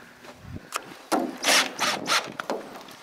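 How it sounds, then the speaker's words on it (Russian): Self-tapping screws with press washers and drill tips being driven into pre-drilled holes in polycarbonate sheet on a greenhouse end wall: short whirring driver bursts and scraping, ratcheting contact noises in quick, irregular spurts. "В готовые отверстия вкручиваем саморезы."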